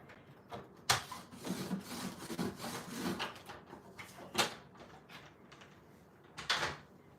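Cardstock being scored diagonally for an easel card, a series of soft scraping strokes and rubs with a few sharper taps, close and quiet.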